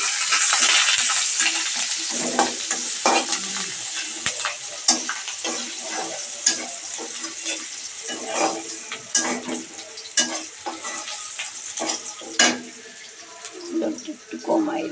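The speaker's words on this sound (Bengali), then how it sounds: "পেঁয়াজটা একটু লাল করে ভেজে" Onions with a bay leaf fry in a pan, giving a continuous sizzle broken by frequent scraping stirs and clinks throughout, close and fairly loud.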